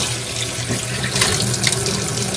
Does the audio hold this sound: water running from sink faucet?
yes